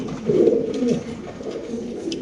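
A male pigeon sold at a bird market gives a close, low, throaty coo with a couple of rolling pulses, then quieter murmuring.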